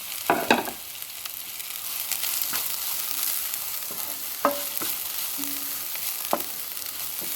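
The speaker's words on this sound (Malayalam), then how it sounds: "അരപ്പ് ചേർത്ത് നന്നായിട്ടൊന്ന് ഇളക്കി" Ground coconut paste sautéing with chayote in a pan, a low sizzle broken by scattered spoon scrapes and clinks against the metal as it is stirred, moderately quiet and without speech.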